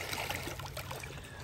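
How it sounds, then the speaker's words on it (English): Water trickling and splashing over an Adventure Force Nano toy boat out on a lake, a brief close, bubbly wash of small splashes. "with the water flowing over it."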